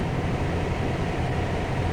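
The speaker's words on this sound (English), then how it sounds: "Oh, the train's going by." A train rolls past during a lake-effect snowstorm, a steady, loud low rumble with rattling wheel noise that holds evenly throughout without any voices.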